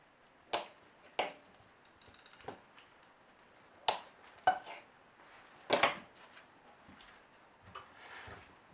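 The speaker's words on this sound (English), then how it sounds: "some whole milk mozzarella. just take some slices off of that." Whole milk mozzarella sliced with a knife for homemade pizza: irregular, fairly quiet taps of the blade meeting the board, spaced out with short pauses between cuts.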